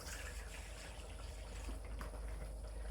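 Apple juice is poured into a baste for a whole roast suckling pig, a low, steady liquid fill with a soft trickle, quiet and continuous with no talking.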